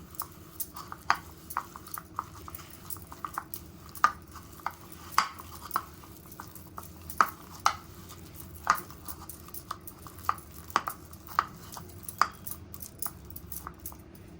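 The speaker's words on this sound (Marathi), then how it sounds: "याच्यातच आता छान मिक्स करून घ्यायचं हाताने" Masala being mixed by hand for pomfret fry, with soft irregular clicks and light patting taps against a bowl, close and quiet over a low steady background hum, no talking.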